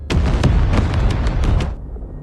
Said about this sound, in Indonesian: Di sini Marcus menghukum Winston dengan cara meledakkan Hotel Continental.